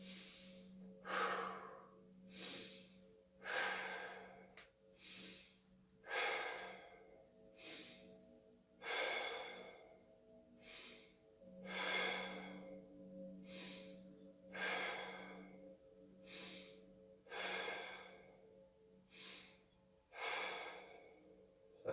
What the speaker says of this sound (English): So nice deep breaths in through the nose.